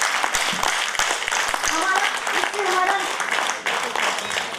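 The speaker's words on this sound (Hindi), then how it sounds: "दिल खोल के जोर से तालियां बजाइए इस तरह से" A group claps loudly and vigorously as a yoga exercise at a women's astrology conference, the clapping dense and continuous with voices talking and calling out over it.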